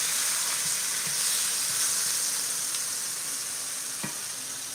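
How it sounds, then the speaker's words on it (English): Vegetables sear in a hot pan on a stovetop set to high, producing a steady close sizzle and hiss with a few faint pops and clinks, and no talking. "we can saute off our vegetables, which will do a quick, almost like a fajita sear on our vegetables"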